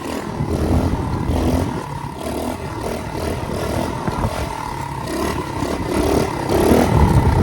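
A pit bike dirt bike engine runs steadily in third gear, a loud continuous buzzing drone close by that swells slightly toward the end, with no speech over it.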